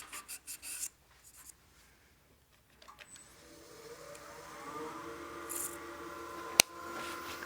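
Several short rasping rubs, then a steadier scratchy sanding of a wooden wine glass against a humming spinning lathe, with a sharp click near the end.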